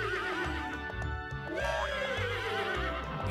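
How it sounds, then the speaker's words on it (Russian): A horse neighs loudly and close, a long wavering whinny with a rising squeal midway, and faint hoof movement beneath. "Все лошади говорят на своем языке."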